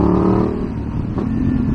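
A 2019 BMW F850 GS motorcycle fitted with an aftermarket exhaust rumbles close by, its deep engine drone easing off and then rising again as the throttle opens.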